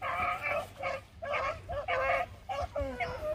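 A rabbit-hunting hound on a cottontail trail bays in a steady, repeated string of loud, ringing barks, close by, with brief pauses between bursts.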